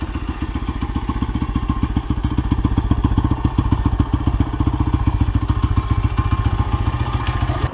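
A motorcycle engine running after a start, with a loud, close, steady rapid thumping idle that holds an even rhythm throughout, and no talk.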